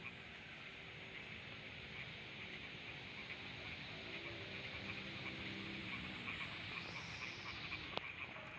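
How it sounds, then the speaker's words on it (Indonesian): Frogs and birds in a quiet rice field make a faint, steady outdoor chorus of soft croaks and scattered chirps, with a thin high insect-like whine throughout. "bisa kita dengar sendiri ya. Suara-suara burung gitu"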